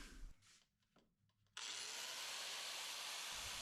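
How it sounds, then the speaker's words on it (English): An angle grinder with a flap disc starts up after a few quiet handling noises and sands steel in a loud, steady, close, hissing roar in a garage. "I decided to just get the angle grinder out with a flap disc"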